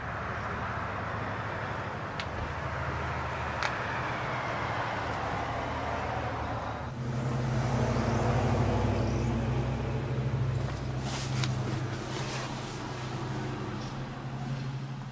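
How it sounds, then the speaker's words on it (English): A 2009 Smart Fortwo Passion Coupe small engine turns over and settles into a low, steady idle, the rumble swelling after about seven seconds and continuing with a few faint clicks and no talking. "let's go ahead and start it up, let it run"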